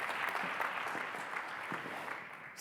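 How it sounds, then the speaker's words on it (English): Audience applause following a talk at a women's leadership event on COVID-19, continuous clapping of a sizeable crowd at an even, moderate level, tapering slightly near the end. "Let's give her another round of applause."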